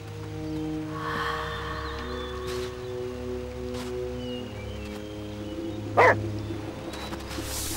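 A dog in the German-language point-and-click video game Nightmares from the Deep 3 barks once after being rescued, a short sharp burst over a quiet ambient game background.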